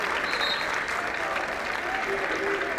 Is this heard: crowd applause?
yes